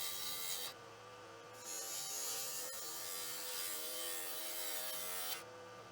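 A wooden box spins on a woodturning lathe while a tool cleans up its outside, giving a steady close scraping hiss with two short pauses where the cutter lifts away.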